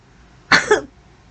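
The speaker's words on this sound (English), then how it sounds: "let me clear my throat" One short, forceful throat clearing close to the mic, a quick two-part rasp in an otherwise quiet room.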